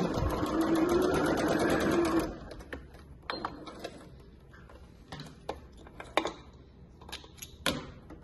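Sewing machine running steadily for about two seconds while stitching a tricoline fabric wallet, then stopping, followed by faint handling clicks and taps of fabric and tools.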